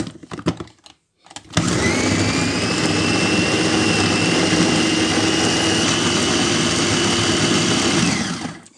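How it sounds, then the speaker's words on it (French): A few clicks and brief whirs, then a food chopper's motor spins up into a loud, steady high-pitched whine while blending beefsteak tomatoes, holding for about seven seconds before winding down. "Voilà, on va mixer maintenant les tomates cœur de bœuf."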